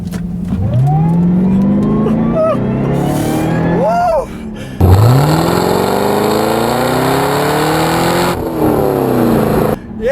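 A 2012 Cadillac CTS-V with a 595-horsepower engine accelerates along a back road from inside the cabin, its engine rising loudly through gears with sweeping revs and shift breaks, a voice talking over it.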